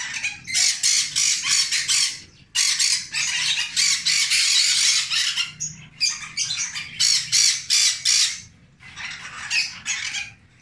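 A brown-throated conure kept indoors with young cockatiels squawks loudly and harshly in repeated bursts, close and piercing, with short pauses between volleys and no talk.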